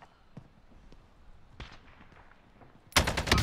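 Sniper gunfire in Call of Duty Warzone Pacific: a few faint, scattered distant shots early on, then a loud burst of rapid gunfire near the end.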